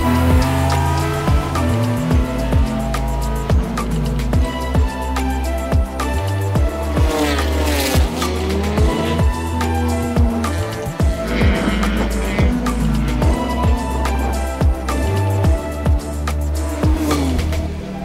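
A race car runs flat out in fifth gear through the fast, sweeping Turns 1 and 2 at the Tarumã circuit at about 170 km/h. Its engine drones loudly and steadily, close up, with no one talking.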